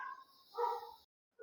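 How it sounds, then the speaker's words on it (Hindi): Dogs bark somewhere outside, a few faint, distant yelps and barks in a brief burst before falling silent. "अरे कुत्ते बहुत भौंकते हैं यार।"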